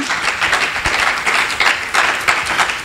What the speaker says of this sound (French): Können wir nochmal für unseren Herrn applaudieren?